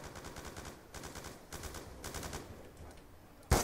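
Gunfire in the video game Black Ops 2, rapid bursts of automatic fire at moderate distance in several short volleys, ending with a sharp louder shot.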